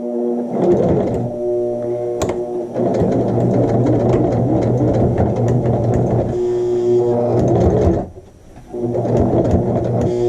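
A sewing machine stitches a back stitch on a flat felled seam sample, a loud steady mechanical whir that runs in long bursts with a brief pause near the end.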